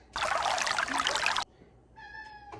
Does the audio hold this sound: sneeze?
no